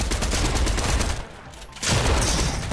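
Close-range gunfire in a Fortnite match, a dense rattling volley that drops off briefly mid-burst before a second loud salvo resumes.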